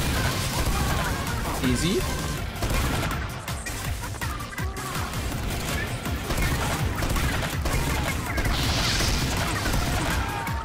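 Rapid bursts of gunfire from a Team Fortress 2 firefight, dense and continuous with clanks and crashes, with a player speaking over the action.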